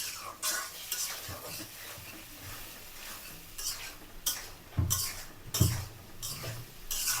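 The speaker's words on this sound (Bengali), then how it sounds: "এখন মশলা আর কচু কষানো হবে সুন্দর করে কষিয়ে নেব" Spices and taro stirred and sautéed in a pan for a home-cooked meal, with a spoon scraping and clinking against the pan in repeated bursts over a soft background sizzle. No one speaks.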